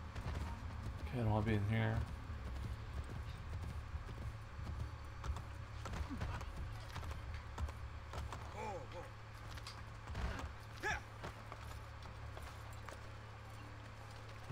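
A horse clip-clops along in Assassin's Creed: Brotherhood, its hooves mixed with a loud whinny near the start, game ambience and scattered clatter. Someone talks over parts of it.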